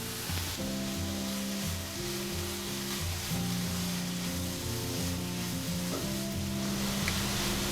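Grated mooli stuffing with fresh coriander leaves sizzles steadily in a hot pan, a constant loud hiss of frying with occasional scraping stir strokes, no voices.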